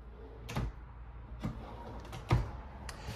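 Ball-bearing drawer guides slide and clack as full-extension plywood drawers open and shut in a 2023 Forest River Grand Surveyor 267RBSS camper, with three or four short, fairly faint knocks spread over a few seconds.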